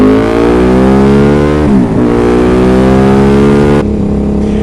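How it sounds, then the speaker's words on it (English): A KTM 950 SM Supermoto twin-cylinder motorcycle revs hard and close, its engine note climbing steadily, dipping sharply for a moment and then rising again before it drops off near the end, loud and with no talk over it. "that's KTM 950 SM Supermoto"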